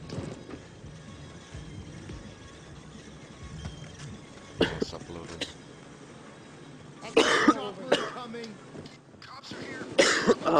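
A few sharp coughs and throat-clearing bursts break out over a low, steady background hum during Payday 2 gameplay, growing louder toward the end.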